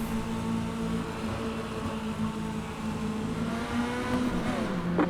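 Engines of mini stock race cars roar at Charlotte in the iRacing video game: a steady, loud engine drone with a faint rising whine near the end, and no talking.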